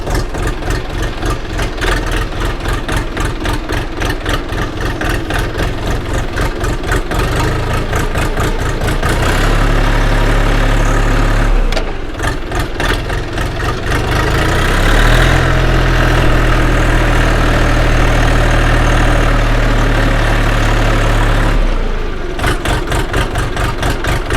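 A Xingtai 244 tractor engine idles while still cold, a loud, close diesel chug with a steady beat that settles into a deeper, smoother hum partway through.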